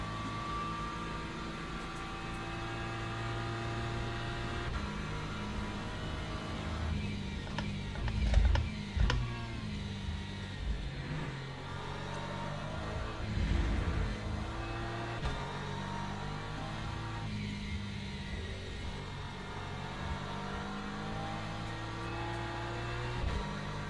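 Racing car engines in the sim racing game Le Mans Ultimate, with a Mustang among the cars, hum steadily at moderate volume, shifting in pitch with brief louder surges around gear changes.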